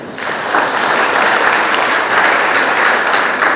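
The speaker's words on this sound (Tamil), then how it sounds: "கைத்தட்டி" Loud, sustained applause fills St. Matthias Church in Ashok Nagar during a confirmation Mass, a thick, even roar of many hands clapping close by for the whole stretch.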